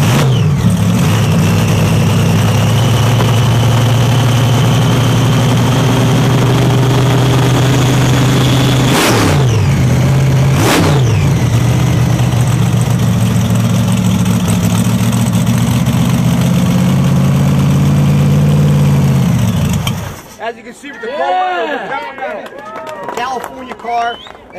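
A gasser drag racing car engine cackles loud and close at a rough idle, with two sharp blips of the throttle midway, before cutting off abruptly into quieter background sound with voices.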